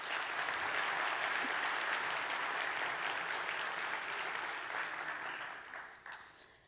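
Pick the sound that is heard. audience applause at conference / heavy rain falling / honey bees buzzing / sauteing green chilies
audience applause at conference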